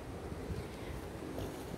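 Steady low rumbling wind buffeting the microphone, continuous and loud throughout with no voices.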